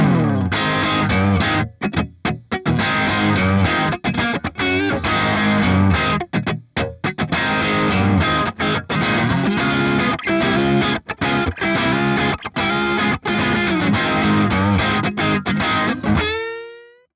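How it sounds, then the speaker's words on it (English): Distorted, overdriven electric guitar played through a GE200 Pro amp with its cab simulation, a loud continuous riff of chugging chords and brief stops, fading out at the end. "For the distortion and overdrive tone, I prefer this famous cab."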